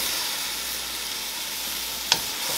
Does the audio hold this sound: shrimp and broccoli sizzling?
yes